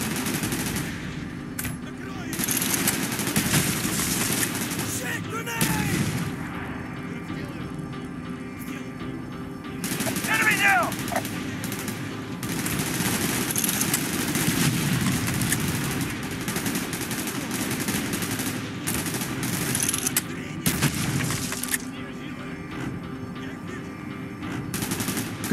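Video game gunfire rattles in repeated automatic bursts and scattered shots, with occasional voices and a constant rumble of battle underneath.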